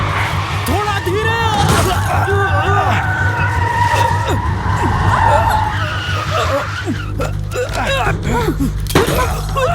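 A car speeds through a chase in an action thriller, with engine roar, tire skids and crashing, shattering impacts, while several voices shout urgently over the driving noise.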